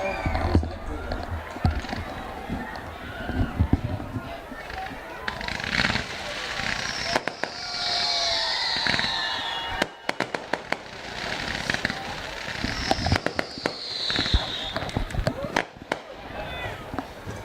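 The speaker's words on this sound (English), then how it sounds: "now turn your attention to the fireworks show" Fireworks show at a high school football game, Hermiston versus West Valley, with repeated bursts and crackling pops echoing over a continuous crowd murmur, some sharp close reports standing out near the end.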